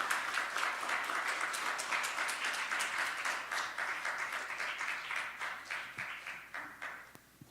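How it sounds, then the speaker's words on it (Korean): A church congregation at a Friday prayer meeting applauds warmly, a dense round of clapping from many hands that holds steady and then thins out toward the end. "여러분 뜨겁게 박수해 주시기 바랍니다"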